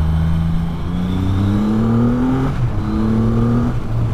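A 2020 Triumph Rocket 3 motorcycle engine pulls hard under acceleration, its loud rising drone climbing in pitch through gear changes, close and continuous with no talk.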